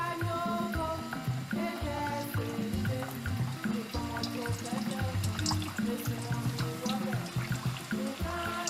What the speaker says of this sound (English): My oil is already hot, so I'm just going to deep fry my pie.